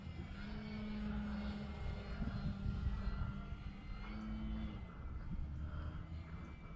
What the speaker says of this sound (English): this is one easy flying plane